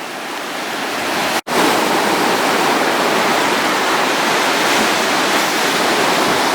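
Hurricane Dorian surf surging onto a beach: a loud, steady roar of crashing waves and rushing water that fills the whole clip, broken by one brief cut near the start, with no voices.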